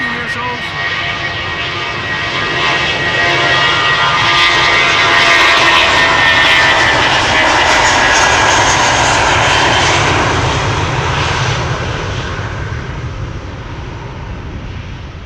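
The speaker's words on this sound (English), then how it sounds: "This is BA flight 437 to London Heathrow, A320, 14 years old." A 14-year-old British Airways Airbus A320 departs Amsterdam Schiphol for London Heathrow, its engines a loud, close roar that builds to a peak midway and slowly fades as it passes.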